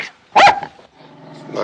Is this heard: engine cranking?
no